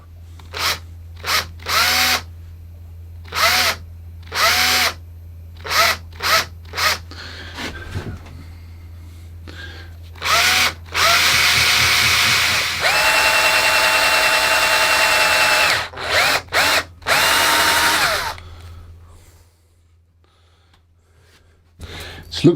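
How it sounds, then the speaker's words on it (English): A cordless drill with a 12mm bit bores into a guitar body, giving repeated short loud whirring bursts with pauses between, then one longer steady run before stopping. "take my cordless drill, take a 12mm drill bit, keep an eye on everything, and just take a leap of faith and drill the hole"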